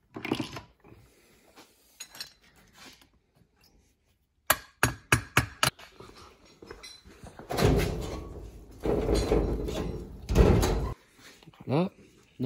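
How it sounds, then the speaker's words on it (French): A series of sharp metallic hammer taps on a screwdriver in quick succession during engine clutch reassembly, followed by heavier clunks and scraping, with a person speaking intermittently nearby. "Un tournevis et un marteau."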